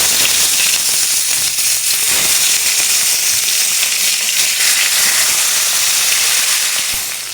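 Turmeric- and chili-coated rohu fish pieces fry in hot oil with a loud, dense, continuous hissing sizzle that holds steady throughout and eases slightly at the end.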